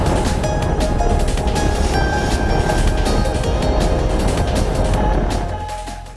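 Dirt bikes riding on the highway toward a Baja 1000 pre-run, making a loud, steady roar of engine and wind rush that holds constant and then fades slightly at the end.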